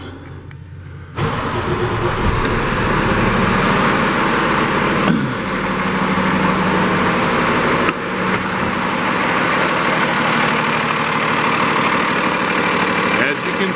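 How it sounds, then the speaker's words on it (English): A Cummins diesel in a 2012 Freightliner M2 flatbed truck idles steadily and loudly up close, a continuous low rumble that starts after a brief quieter moment and carries on through the clip. "As you can see, this Cummins runs excellently."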